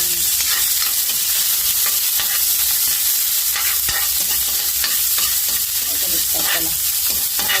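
Onions sautéing with garlic in a pan for a Filipino home-cooked dish: a loud, steady, close sizzle with scattered stirring scrapes and clicks throughout, no voices.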